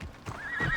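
A horse whinnies in the video game Assassin's Creed Odyssey, a short rising neigh over a couple of low hoof thuds, close and fairly quiet.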